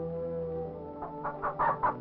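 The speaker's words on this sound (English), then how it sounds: "What could I do with a chicken?" A chicken clucks in a short run of bursts over a steady low hum, starting halfway through and growing louder and closer toward the end.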